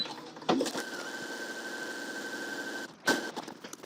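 Domestic sewing machine running a reinforcing line of stitching along a coat's side seam, a steady whirring hum that starts after a short handling noise, runs evenly for a couple of seconds, then stops with another clunk.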